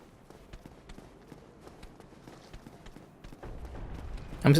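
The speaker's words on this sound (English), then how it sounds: "I'm never sure if those footsteps I hear are my footsteps, you know, just the running footsteps" Running footsteps of a player character in the video game Dark Souls, a quick, steady patter of soft thuds that stays fairly quiet through most of the clip and grows louder and denser near the end.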